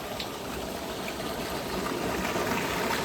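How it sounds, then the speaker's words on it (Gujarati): Water pumped by a motor from a farm well, about 25 feet down, gushes out in a steady, loud, continuous rush with no pauses and no voices. "મોટર સવારની ચાલુ છે એટલે થોડુંક ઉતરી ગયું હોય અને આ રીતનું પાણી બહાર આવે છે"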